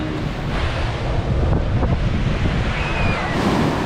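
Waves wash steadily onto a soft-sand Caribbean beach with a slightly choppy sea, a constant close surf roar blended with gusty wind buffeting the microphone.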